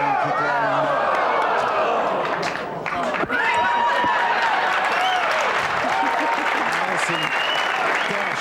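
A crowd at a show bursts into sustained, loud applause and cheering for a shot, the roar steady throughout with an announcer talking over it.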